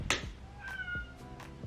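A house cat meows indoors, several short, close calls in a row over a quiet room background.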